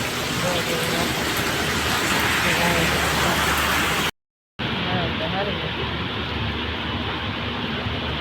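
A heavy downpour roars steadily as loud, even hiss, broken by a brief moment of silence, while people talk under the rain.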